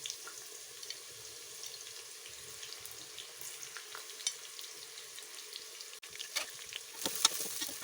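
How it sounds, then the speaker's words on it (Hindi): Chopped onions sizzle softly in a pan, a faint, steady crackle with small spatters and an occasional stir or clink, the frying quiet and close throughout. "अब मैं इसमें प्याज डाल रही हूँ। इसे लाइट गोल्डन होने तक मैं इसे फ्राई करूँगी।"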